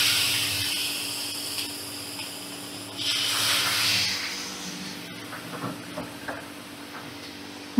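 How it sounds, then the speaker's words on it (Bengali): Milk and water poured onto hot roasted semolina in a pan over a high flame give a brief, loud hissing rush that fades into quieter bubbling and a few light knocks, heard close with no speech. "আমি 2 কাপ দুধ দিলাম, আর হাফ কাপ জল দিয়ে দিলাম ওই কাপ মেপেই"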